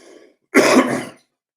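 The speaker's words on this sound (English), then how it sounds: "I apologize for the coughing, sniffling." One harsh throat clearing with a cough-like edge from someone getting over a cold, close and fairly loud, lasting about half a second after a faint brief sound.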